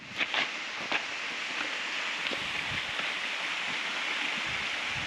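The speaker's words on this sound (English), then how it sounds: "the sounds of rushing water grew louder in intensity" Steady rushing water, a broad constant hiss of the Eaton Canyon Falls waterfall at moderate distance, with a few faint knocks.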